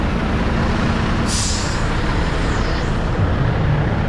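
A dump truck at a warehouse construction site sounds loud and close, with a steady diesel engine rumble and a sharp hiss of air brakes released partway through.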